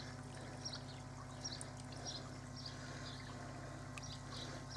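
Water pours and trickles into a homemade koi pond river filter, a soft continuous splashing with light droplet sounds over a steady low pump hum, fairly faint and with no talk.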